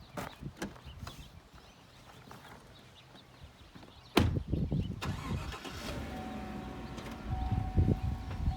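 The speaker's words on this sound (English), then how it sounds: "And then we'll move the truck forward and away." A truck engine cranks and catches with a sudden loud start halfway through, then idles and revs steadily as the truck pulls forward away from a Cherokee Alpha Wolf 26 DBH-L camper, after some quiet clanks and movement.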